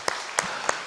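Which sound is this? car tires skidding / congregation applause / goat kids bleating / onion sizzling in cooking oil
congregation applause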